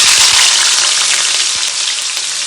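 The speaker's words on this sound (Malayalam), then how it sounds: "ചീനച്ചട്ടി അടുപ്പത്ത് വെച്ച് നമുക്ക് അതിലേക്ക് ഇഞ്ചിയും വെളുത്തുള്ളിയും പച്ചമുളകും വാട്ടിയിട്ട് ചെയ്യാം." Ginger, garlic and green chilies sauté in a hot pan for a Kerala-style beef fry, giving a loud, dense, continuous sizzle with faint scraping stirs and no voices.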